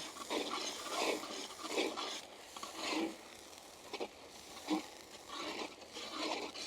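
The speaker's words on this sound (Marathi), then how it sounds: "टोमॅटोची पेस्ट, टमाट्याची पेस्ट व्यवस्थित आपण परतून घेऊ" Tomato paste sautéed in a pan for bheja masala, with soft, repeated stirring scrapes and a faint, low sizzle, fairly quiet and close, with no voices.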